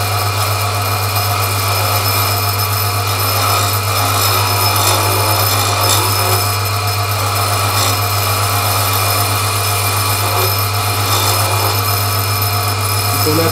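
A wooden pen blank spins on a lathe while a tool cuts it, giving a steady, loud motor drone with a low hum and a continuous scraping, rasping texture, no talk.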